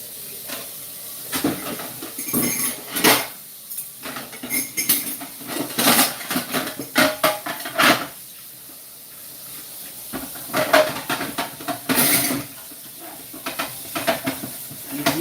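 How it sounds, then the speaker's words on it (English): Two plates washed quickly by hand at a sink, with irregular clinks and clatters of dishware, scrubbing rubs and bursts of running water. "Okay, 2 plates. I'm going to wash very quickly."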